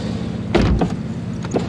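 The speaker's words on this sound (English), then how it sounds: "Nice soft closing doors." A 2015 Porsche 911 50th Anniversary door shutting softly, a brief muffled thud near the start followed by a second lighter latch click, then quiet cabin hum.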